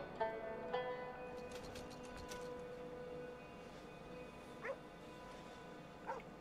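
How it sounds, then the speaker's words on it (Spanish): A dog yelps and whimpers in Red Dead Redemption 2 after being stepped on, several sharp, high cries scattered over a steady low game background, fairly faint. "Todo por pisar a un puto perro"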